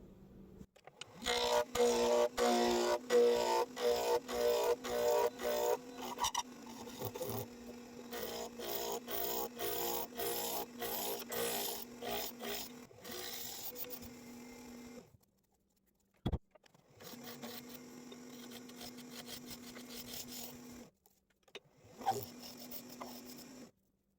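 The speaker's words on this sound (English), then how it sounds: "get the other other side of the blank on the lathe here, and we'll start all over" A wood lathe turning a pen blank spins steadily with a low hum while a cutting tool scrapes in rapid bursts, pausing briefly before resuming; no talking.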